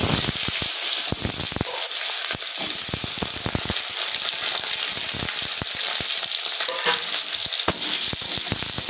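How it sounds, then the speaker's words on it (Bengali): Potatoes frying in hot oil with cumin and bay leaf, a loud steady sizzle with a bright hiss throughout, broken by repeated scraping stirs of a spatula in the pan. "আলুগুলো একটু আমি লাল লাল করে ভেজে নেব।"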